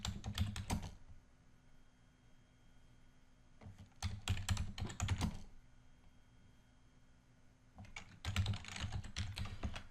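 Code being typed on a computer keyboard in three separate bursts of rapid key clicks, with short quiet pauses between them, heard up close in a quiet room.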